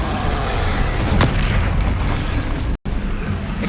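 A Bombarda spell goes off in Hogwarts Legacy, a loud, sustained booming explosion with crackling debris that fills the clip before cutting off abruptly near the end.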